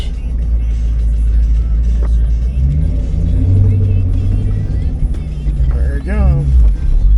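A 2004 Chevrolet Corvette Z06 with a 5.7L LS6 V8 idles with a deep, steady rumble, then the engine note rises and swells as it backs up in reverse, with brief voices talking over it.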